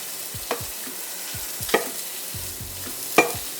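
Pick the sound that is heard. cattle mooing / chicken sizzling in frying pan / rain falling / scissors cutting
chicken sizzling in frying pan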